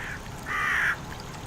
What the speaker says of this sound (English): These crows are annoying, man. They're really loud.